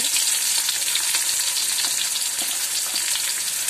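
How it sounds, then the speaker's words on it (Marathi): Onion frying in hot oil in a pan for a Malvani crab curry, a steady dense sizzle and crackle that stays loud and close throughout with no talking. "हे आपलं तेल गरम झालंय, मी आता त्यात कांदा भाजून घेते।"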